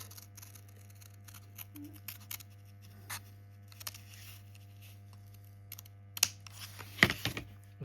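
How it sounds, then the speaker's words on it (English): Scissors cut a very thin strip of banana paper for repairing a Märklin reverse unit, making quiet, sparse snips that build to a cluster of crisp cuts near the end over a faint steady hum. "I will just cut a very thin rim, just as the correct width."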